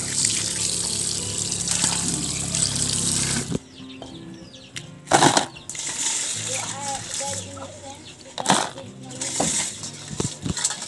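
Tap water runs and splashes as raw crabs are rinsed in a sink, a loud steady stream that stops partway, followed by intermittent splashes and handling noises.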